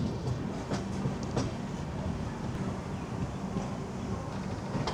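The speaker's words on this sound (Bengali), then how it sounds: "আমরা ছুটে চলেছি ঢেঙ্কানালের দিকে, আর ট্রেন 3 ঘন্টা লেট।" Running on the East Coast Railway toward Dhenkanal, a passenger train rolls steadily with a continuous rumble and rhythmic clickety-clack of wheels over rail joints, heard from inside the carriage at moderate volume.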